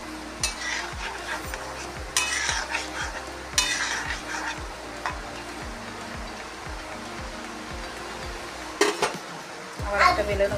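Nimki dough pieces frying in a small amount of oil in a home kitchen give a steady sizzle, with repeated scraping and clinking of a utensil against the pan throughout.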